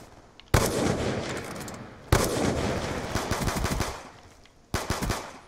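DSR sniper rifle in the video game Black Ops II fires three loud, sharp shots a second or two apart, each followed by a rumbling, rattling tail that slowly fades.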